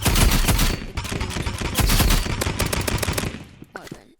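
Rapid bursts of paintball gun fire from the video game Roblox Rivals, a loud run of dense repeated shots that thins out near the end.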